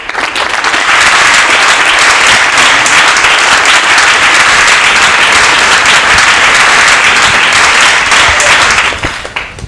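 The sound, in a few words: audience applause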